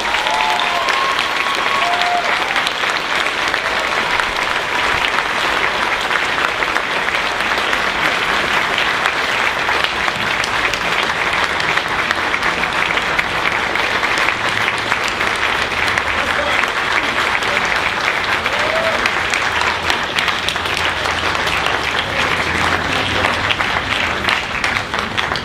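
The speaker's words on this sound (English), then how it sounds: "Ladies and gentlemen, please big round of applause for Clive Barker." Sustained, dense applause from a convention audience greeting Clive Barker at a Hellraiser reunion panel at Monster-Mania Con, loud and steady throughout with crowd noise and a few voices faintly underneath.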